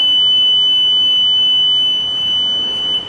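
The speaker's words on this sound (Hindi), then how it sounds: "पर्ची गिरने के बाद ही बीप साउंड आएगा।" An electronic voting machine sounds a loud, sustained high-pitched beep after the vote slip drops, a steady continuous tone lasting about three seconds before cutting off.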